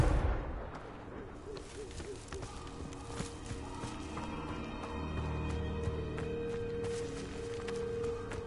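Fiery Confringo curse blasts in Hogwarts Legacy crack and boom through a dense layer of game ambience and music, with several sharp bursts early on and a rumbling low wash running through the rest.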